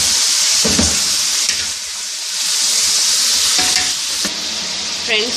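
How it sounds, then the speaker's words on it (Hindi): Chicken pieces fry in hot oil for a desi chicken korma, a steady loud sizzle with bursts of stirring and scraping in the pan, close up and continuous, no voices. "अब हम इस चिकन को अच्छी तरह भूनेंगे।"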